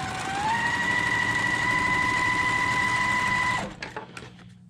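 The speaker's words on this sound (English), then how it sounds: "on this I'm stitching exactly on that line" Sewing machine stitching a seam on a blue-square quilt block, a steady whirring hum that spins up quickly, runs evenly for about three seconds, then stops, followed by a few faint clicks.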